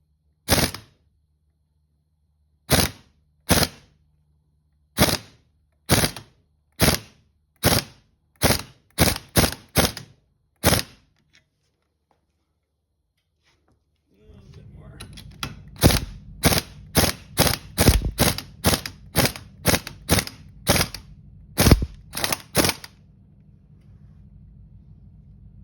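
Impact gun removing a part from a Datsun 280Z R200 differential, short sharp rattling bursts fired one after another, first in a quiet room, then with a steady hum underneath as the bursts come faster.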